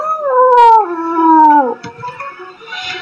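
A dog howling in the KFC dating sim video game, a loud drawn-out wavering howl that slides downward over about two seconds, followed by softer whimpering yips.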